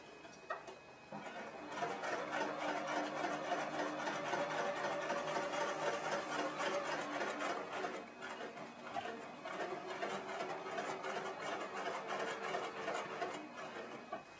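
A sewing machine stitching in the ditch between quilt blocks, running in a steady fast mechanical whir for most of the stretch with brief slowdowns and pauses, close and alone.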